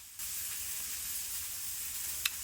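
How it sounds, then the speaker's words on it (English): Vegetables sizzle in a frying pan with a steady, close hiss that runs unbroken throughout. One brief sharp tick rises near the end, and no one speaks. "so while the veggies cook, you can hear them sizzling in the background"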